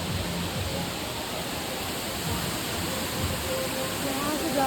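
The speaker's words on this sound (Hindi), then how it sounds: "बहते हुए झरने की आवाज़ कितनी शानदार लग रही है ना।" Kempty Falls near Mussoorie pours down in a constant, hissing roar of falling water that fills the clip evenly at close range, with faint low rumbles underneath.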